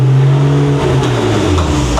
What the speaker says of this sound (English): I'm gonna rev the car after we change the struts